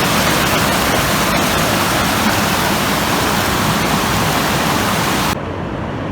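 Steady, loud rushing water of a waterfall in Şahindere Canyon in the Kaz Mountains, a dense continuous roar that holds unbroken throughout.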